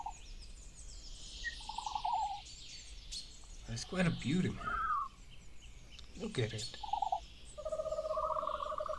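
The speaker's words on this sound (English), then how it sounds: "That's the call of Dilophosaurus weatherilli." Fictional Dilophosaurus call in a Jurassic Park analog horror piece: a few warbling, gobble-like cries with whistling tones, moderately loud, interleaved with someone talking.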